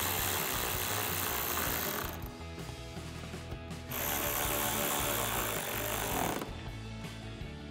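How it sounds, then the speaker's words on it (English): A 7 mm socket on a ratchet tightens bolts on a replacement grille for a 2021-2023 Ford F-150, giving close, quiet rapid clicking in two bursts with a short pause between. "we'll grab a 7 millimeter socket to tighten these down"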